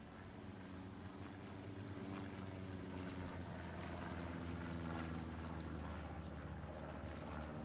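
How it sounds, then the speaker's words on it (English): A reconnaissance plane in the Hell Let Loose video game drones overhead at Carentan, a steady low propeller engine hum that holds at an even, faint level throughout. "Recon plane coming over for TFMC as well."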